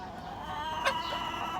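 Chickens in a full coop, a brief bright cluck over a soft steady background of hens.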